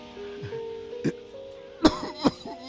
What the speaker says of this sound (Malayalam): എന്തൊരു ചുമയാ.